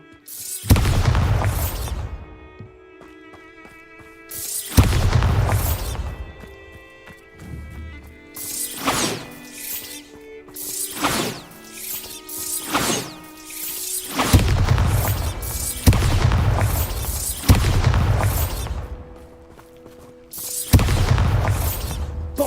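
Repeated Bombarda spell blasts in Hogwarts Legacy, loud booming explosions with crashing and shattering debris, about eight bursts spaced a few seconds apart with quieter gaps between.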